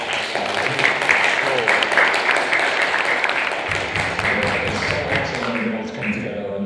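An audience applauds a charity fundraising total, a full, sustained round of clapping at steady loudness with some voices mixed underneath.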